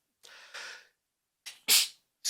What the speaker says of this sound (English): the first sneeze in the history of the show